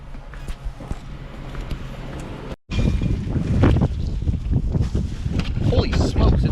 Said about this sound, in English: Holy smokes, it's super windy out here.